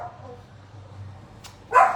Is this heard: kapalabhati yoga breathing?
no